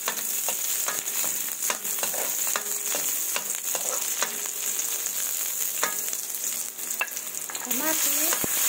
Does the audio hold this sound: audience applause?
no